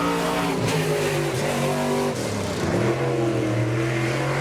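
A race car lapping a track, its engine loud and close with a steady roar as the pitch climbs, dips and climbs again through gear changes and throttle shifts, no voices over it.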